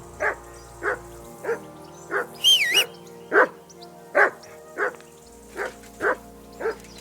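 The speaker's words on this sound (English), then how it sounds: "Jesus, Henry, that barking's driving me nuts." A dog barks repeatedly in Kingdom Come: Deliverance II, about ten evenly spaced single barks, fairly close and clear over a low game ambience, with a brief high synthetic tone partway through.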